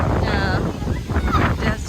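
Strong, storm-like wind blows beside a lake and buffets the microphone with a deep, rumbling roar that swells and eases in gusts. Voices are faintly audible underneath.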